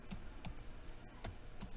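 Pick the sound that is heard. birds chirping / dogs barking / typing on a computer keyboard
typing on a computer keyboard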